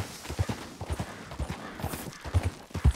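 Horse hooves clip-clop at a steady walking rhythm in Red Dead Redemption 2, close and distinct, with soft background game ambience.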